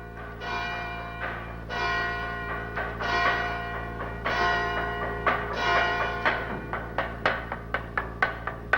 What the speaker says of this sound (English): First, bells indicate a service will soon begin.